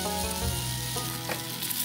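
Food searing on a copper cooking mat at an overlanding camp with a 4Runner: a strong, even sizzle that holds close and steady through a brief moment, with no talking.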